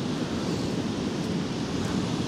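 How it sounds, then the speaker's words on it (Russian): Stormy sea waves washing onto a beach at Vityazevo near Anapa, a dense, constant roar of surf with wind noise, steady and unbroken for the whole span. "сейчас море бушует, но волны в своих берегах не выходят сильно далеко"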